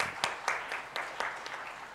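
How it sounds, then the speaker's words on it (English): An audience at a growth and employment summit in Odisha gives a short burst of applause, with sparse, evenly spaced claps at moderate distance. "We must give them a round of applause, Usha ma'am and Alka ma'am."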